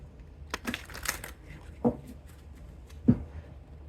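Tarot cards shuffled by hand in a few quick, crisp bursts of riffling and slapping, close and moderately loud, separated by quiet pauses with no talking.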